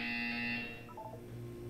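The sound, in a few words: buzzer in video game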